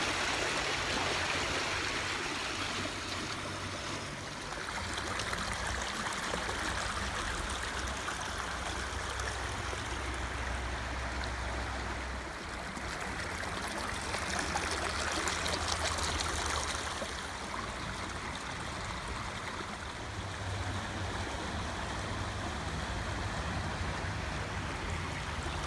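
A river flows continuously for the whole stretch, a steady close rush and babble of water that rises and falls gently, with no talking.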